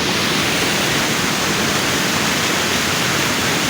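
Rushing floodwater after heavy rain pours over a flooded farm field, a steady, loud broadband roar that holds evenly throughout with no voices over it.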